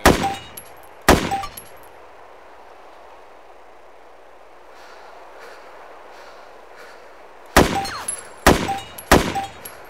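Rifle shots in DayZ fired from a prone position at a target 50 yards away: two loud, sharp cracks at the start, a quiet stretch, then a rapid cluster of three or four more shots near the end.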